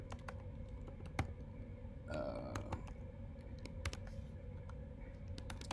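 Light, irregular clicking of a computer keyboard as JavaScript code is typed, soft and close, with a brief duller rattle partway through.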